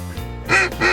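Two loud, nasal duck quacks come in quick succession over a thawed rice field during a hunt, close and clear.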